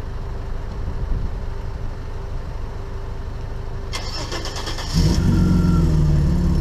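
A car engine with a holed exhaust cranks and catches after steady low idle-like rumble, then settles into a louder, rough running drone, close by.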